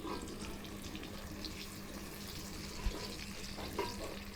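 Taro roots frying in a pan for a coconut taro roast, a steady close broadband sizzle with a couple of brief clinks from stirring or turning, no voices.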